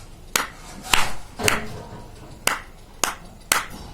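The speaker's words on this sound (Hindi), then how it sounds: "मैं विरोध में तालियां बजा रहा हूँ" Six sharp, separate hand claps made in protest ring out at uneven intervals, loud and close, with a hint of room echo and no talk between them.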